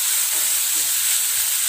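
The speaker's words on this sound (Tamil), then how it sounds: "தக்காளி நல்லா ஸ்மாஷ் ஆகிற அளவுக்கு நல்லா இது வதங்கணும்." Tomatoes sauté in a pan for butter chicken, cooking down to a mash with a steady, soft, even sizzle and hiss, close by and without talk.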